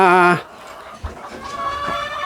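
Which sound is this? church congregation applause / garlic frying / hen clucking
hen clucking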